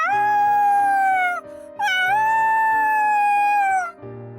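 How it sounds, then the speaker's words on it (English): Two long, drawn-out howls from the video game Sabbat of the Witch, loud and close, each sliding downward at the end, heard over a soft, repeating background music loop. "Are these howls pleas for help?"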